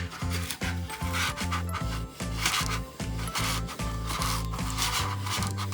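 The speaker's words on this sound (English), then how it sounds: "I'm just going to push it down as I put it around the cup with my squeegee." A squeegee rubs and scrapes vinyl down around a drip-style tumbler cup in steady, close strokes, a repeated rasping rhythm at fairly even loudness with no talking.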